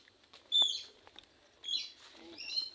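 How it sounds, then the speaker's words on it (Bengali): Birds chirp in a park, with two or three short bursts of bright, high calls standing out against quiet background ambience. "পাখিগুলো সুন্দর।"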